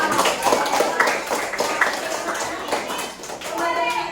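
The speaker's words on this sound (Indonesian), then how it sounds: "Oke, kita beri aplaus buat kalian semua." Students in a classroom give a round of applause, uneven clapping mixed with children's chatter and a teacher's voice, close and lively throughout.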